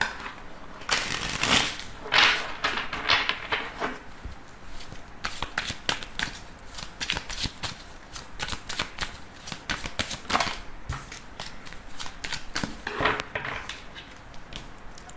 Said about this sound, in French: Alors je vais reprendre les cartes et on va voir aussi les messages du tarot.